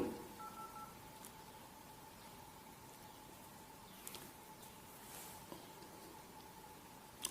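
Telephone number being dialed, with faint tones from the keypad sounding alone against a quiet background.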